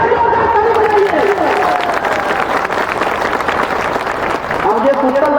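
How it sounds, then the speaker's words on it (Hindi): A large rally crowd at the Vanchit Shoshit Jagran Maharally in Siwan, Bihar breaks into loud, sustained clapping and cheering, dense and close throughout, with voices shouting over it. "एक बार फिर से जोरदार ताली बजाइए।"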